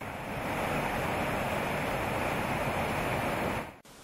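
Water from a small mountain reservoir falls 107 metres and rushes at a small hydroelectric station, a loud, steady broadband roar that holds unbroken for several seconds before briefly dropping out near the end.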